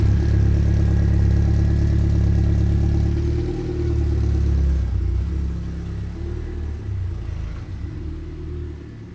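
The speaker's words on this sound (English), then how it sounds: "Cold start in 3," A car engine that has just been cold-started at an old workshop by a scrapyard runs at a loud, rumbling fast idle, then drops to a lower, rougher idle after about five seconds, with no voices.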